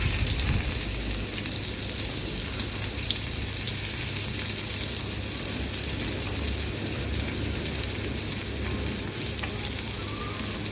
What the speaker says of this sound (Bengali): এই তেলের মধ্যে পেঁয়াজ কুচি দিয়ে দিব।